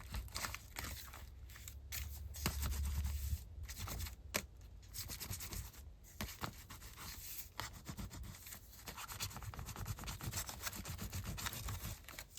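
A big crayon turned on its side is rubbed across journal paper in a long, faint scratchy stroke, a dry papery rasp that swells and thins with brief pauses, close and quiet with no talking.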